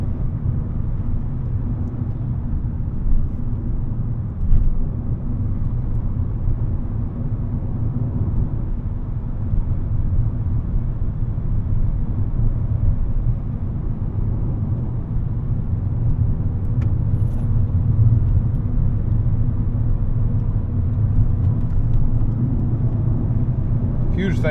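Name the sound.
Volkswagen Golf car driving on road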